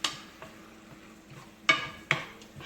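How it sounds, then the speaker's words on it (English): Spoon stirring marinara sauce into vodka rigatoni sauce in a pan over low heat, with a few sharp clinks against the pan and soft scraping between them, close and quiet. "Mix that in as well as you can"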